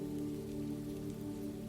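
Steady rain falls on a surface in a continuous, soft, even patter, fairly quiet and unbroken, with no voices.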